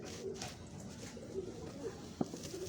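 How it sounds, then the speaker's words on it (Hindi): Pigeons on a Karachi rooftop give soft, low coos in short scattered bursts against a faint background hum, with one sharper nearby sound near the end. "ये ओरिजिनलिटी में कबूतर हैं"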